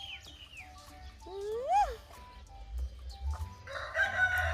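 A rooster crows once nearby, a rising and falling call, among other bird calls and clucks over low background rumble.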